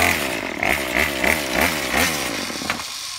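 Year-old gasoline weed whacker engine rigged as a boat outboard, buzzing loudly with rapid rises and dips in pitch like a chainsaw, close and alone before cutting out abruptly.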